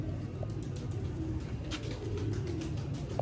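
Pigeons in a bush, Sialkoti breeder birds kept by a fancier, give soft, low, continuous cooing close by, with a few faint rustles and no talking.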